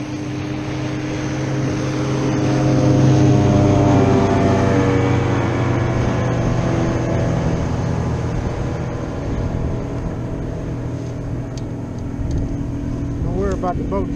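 Motorboat traffic passing on Lake Houston, heard from a kayak: a loud engine drone swells and fades as boats go by, with wake noise and a second engine pitch near the end.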